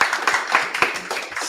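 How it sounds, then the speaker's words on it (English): A small audience at an AI project showcase gives a brief round of applause. Scattered claps sound moderately close and fade within about a second and a half. "Big round of applause for"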